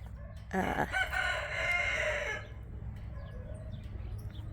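A marble Silkie rooster gives a loud, drawn-out call up close, then quieter clucks follow over a steady low background hum.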